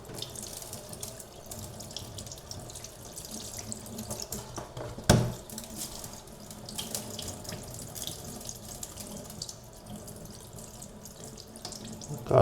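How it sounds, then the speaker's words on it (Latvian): Tap water runs steadily into a sink as salt is rinsed off a salmon fillet, with a continuous close splashing rush, a brief louder knock midway and no voices. "Kārtīgi nomazgājam ar augstu ūdeni."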